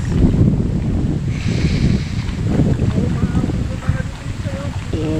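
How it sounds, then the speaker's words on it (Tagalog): Heavy wind roaring and buffeting outdoors during a fishing trip, low and constant, with some voices and faint chirps sounding under it. "Hindi na kinakaya ng payong natin yung lakas ng hangin."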